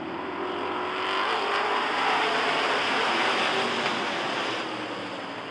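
A pack of race cars at Rockford Speedway roars up to speed on the green flag, a loud, dense wash of engine noise swelling then easing slightly, with no talk.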